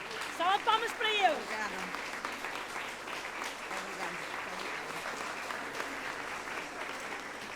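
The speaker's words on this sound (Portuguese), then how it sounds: "Salva de palmas para eu." Sustained audience applause fills a hall during a senior Carnaval dance, a steady dense clapping wash over several seconds, with a voice calling out loudly at the start.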